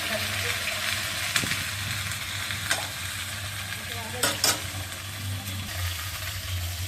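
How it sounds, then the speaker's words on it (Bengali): Cauliflower sizzles and fries in a pan with steady crackling, broken by a few sharp scraping clinks of a utensil stirring. "কপিটা অনেকটা ভাজা হয়ে গেছে"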